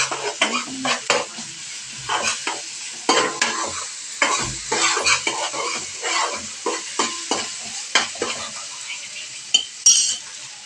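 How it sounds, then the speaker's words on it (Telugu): Ginger sizzles in oil in a pan while a spoon stirs it in repeated scraping strokes. The close, clattering stirring comes in uneven bursts over a soft frying hiss. "కలర్ వచ్చేదాకా మనం వేగాలి ఇది, ఎందుకంటే అప్పుడే దీనికి టేస్ట్ వస్తుంది"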